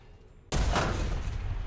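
An Object 292 tank fires its main gun in War Thunder: a single sudden loud blast after a quiet moment, followed by a sustained heavy rumbling roar.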